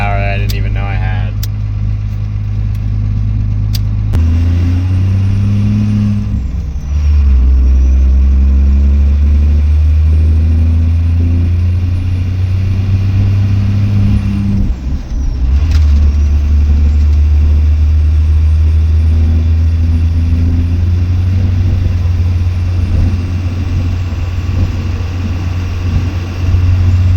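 A 12 valve Cummins diesel truck with its fuel shut off solenoid deleted drives along, its deep engine rumble loud and close, rising and shifting as it pulls through gears.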